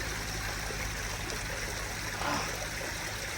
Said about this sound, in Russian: Вкуснотища, ледяная вода с гор идет.